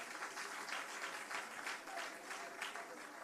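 A town hall audience gives steady applause for the mayor, with dense clapping that swells and eases in soft waves at a moderate distance.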